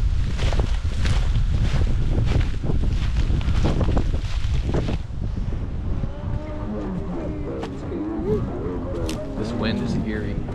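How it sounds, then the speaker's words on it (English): Strong wind roars and buffets the microphone at night near a water tower. The gusts are loudest at first, then ease under people talking nearby. "This wind is eerie."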